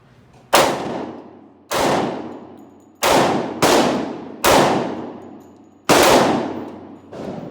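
A Smith & Wesson M&P 2.0 pistol in 10mm fires six loud, sharp shots outdoors. They come at uneven intervals about a second apart, and each blast rings out and decays over the next second.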